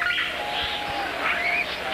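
Pigeons call briefly in the background, soft chirping and cooing sounds over a faint ambient bed.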